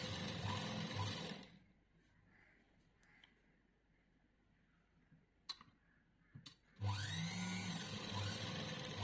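A sewing machine runs in two steady, close bursts at the start and end while stitching a blouse shoulder seam, with a quiet pause and a few faint clicks between.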